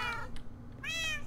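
Cats in the Minecraft Pixelmon video game meow twice, short close meows separated by a brief pause over low game ambience.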